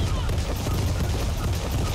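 Sustained gunfire in Gears of War 4 co-op, a dense, continuous rattle of shots with low booms running through the whole stretch, with voices talking faintly underneath.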